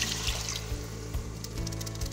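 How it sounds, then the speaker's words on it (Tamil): Water poured into a tamarind and tomato fish curry base in an Instant Pot, a steady soft splashing trickle lasting a couple of seconds over a low background hum. "தேவையான அளவு தண்ணியை ஊற்றிக்கலாம்."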